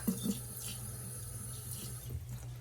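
Tap water runs steadily into a container to make filtered water for homemade cashew milk, a continuous close splashing stream with no talking.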